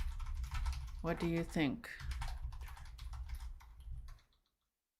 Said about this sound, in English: sorry for my typing now.